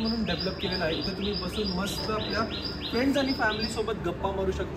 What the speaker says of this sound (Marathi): पक्ष्यांचा किलबिलाट सुद्धा तुम्हाला ऐकायला येत असेल